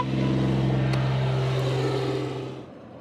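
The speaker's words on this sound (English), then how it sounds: "there's car noise" A car goes by with a steady, loud engine drone and low hum that holds for a couple of seconds, then fades away near the end. No one talks over it.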